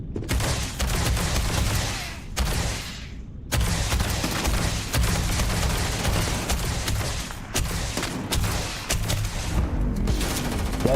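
Gunfire in Starfield, a dense, loud sustained barrage of shots and booms, continuous with brief gaps and sharp individual cracks standing out.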